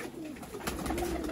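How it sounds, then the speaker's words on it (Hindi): Golden kamagar pigeons coo softly at close range, a few low rounded calls over faint background noise. "आपको कुछ कमगर कबूतरों का मियां नज़ीर साहब वालों का शौक करवाते हैं।"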